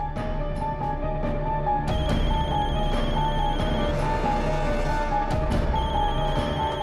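A telephone rings insistently with repeated electronic trills, loud and continuous in a tense indoor scene, with a faint background hum underneath.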